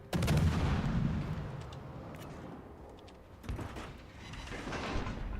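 Naval gunfire from battleships in World of Warships: Legends, heavy booming salvos with a rumbling low end, a loud blast at the start and another a few seconds later, with mechanical clanks in between.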